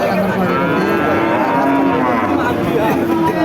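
A long, loud cow moo drones on close by at a cattle market, steady and deep, with faint chatter in the background.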